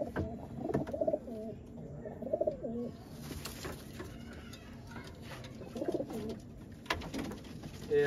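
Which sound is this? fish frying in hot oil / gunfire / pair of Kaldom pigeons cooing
pair of Kaldom pigeons cooing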